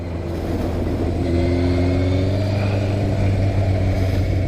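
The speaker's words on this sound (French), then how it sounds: "une moto qui chante plutôt bien" A 2002 Yamaha Fazer 600 FZS motorcycle engine revs up from a steady idle, a loud, close, continuous mechanical drone with a rising, buzzing pitch.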